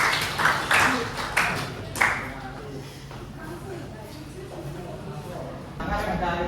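A group breaks into brief applause, a few loud bursts of clapping over the first two seconds, then fading into quieter room noise with faint voices.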